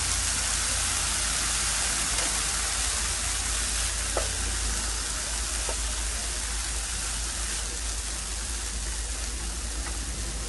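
Chinese chives fry in a pan on a gas stove with a loud, dense, continuous sizzle like heavy rain, broken by a few faint utensil taps, with no talk.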